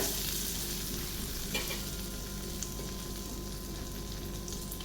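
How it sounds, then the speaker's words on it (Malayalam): Butter sizzles steadily in a pan on the stove at the start of a quick chicken soup, making a close, continuous frying hiss with no talking. "ഒരു പാൻ അടുപ്പത്ത് വെച്ചിട്ട് കുറച്ച് ബട്ടർ ഇട്ട് കൊടുത്തിട്ടുണ്ട്."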